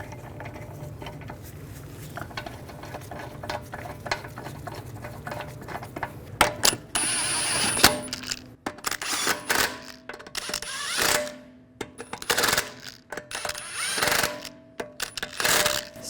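Lug bolts on the rear wheel of a 2009-2017 Volkswagen Tiguan are started and snugged down with a ratcheting tool, giving rapid clicking bursts in irregular runs with pauses between them.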